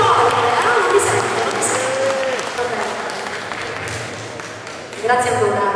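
Audience applause at an award ceremony for applied arts and crafts in a hall, a steady wash of clapping with some crowd noise and a voice speaking over it, swelling again near the end.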